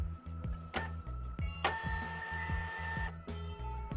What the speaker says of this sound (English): The media now prints with even pressure and good resolution.